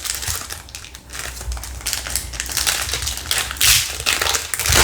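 A Kayou Naruto Shippuden trading card pack wrapper being torn open, a close, steady run of crinkling and crackling foil plastic with brief louder rips toward the end.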